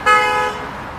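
A car horn gives one short, bright honk, a clear toot that fades quickly into a quiet background.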